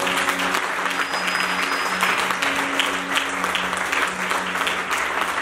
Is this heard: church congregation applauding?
yes